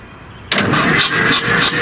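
A Lima 24 engine cranks and fires on a starting attempt after a moment of quiet, then settles into a loud, uneven running rhythm with a dead cylinder, heard close up.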